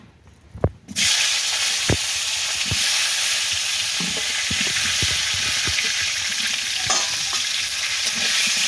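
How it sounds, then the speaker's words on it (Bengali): Cauliflower fries in hot oil with a loud, continuous sizzle that begins abruptly after a few soft clatters, with occasional scrapes and taps of stirring underneath and no voices. "দিয়ে দেব ফুলকপিটা ভেজে নেব এবার।"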